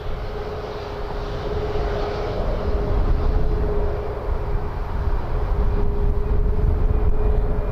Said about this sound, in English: WestJet 858 to Montreal, Max 8 lining up